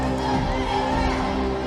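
A crowd at a boxing match cheers for a Thai fighter, a steady dense roar of voices that holds evenly throughout with a commentator speaking over it.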